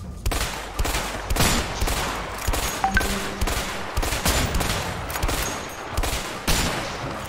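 Rapid bursts of gunfire in the video game A Way Out crackle continuously, loud and dense, with sharp repeated shots overlapping throughout.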